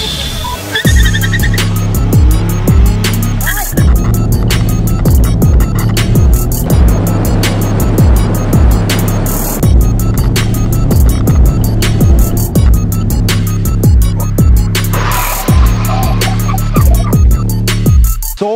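Suzuki Swift fitted with Bosch brake pads accelerating hard to 100 km/h, the engine winding up through several gear changes, then a braking run, all loud and close throughout with repeated sharp clicks.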